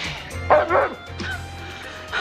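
A part-wolf dog, White Fang, gives a few quick yipping barks and whimpers close by, in short bursts with small pauses between, a voice briefly audible around them.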